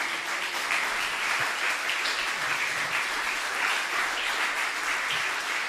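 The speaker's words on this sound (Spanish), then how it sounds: "Dele un fuerte aplauso al Rey de Reyes." A church congregation applauds loudly and steadily throughout, a dense wash of clapping with no break.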